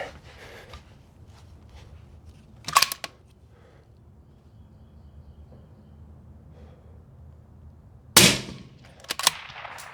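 Two sharp, loud rifle shots fired through an Otter Creek Labs Infinity suppressor brake, the first near the three-second mark and the second much later, each a sudden crack with a brief tail, separated by near silence.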